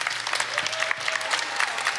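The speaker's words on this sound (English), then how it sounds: "Can we give these folks a round of applause" Audience applause for panelists at a film festival discussion, dense continuous clapping filling the room, with a faint voice underneath.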